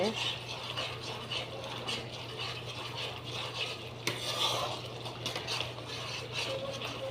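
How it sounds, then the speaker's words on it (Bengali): A spice mixture with salt bubbles hard in a pan while cooking vegetarian doi potol. It gives a continuous rough, crackling sizzle with occasional stirring scrapes over a low steady hum. "মশলাটা প্রচণ্ড ফুটছে।"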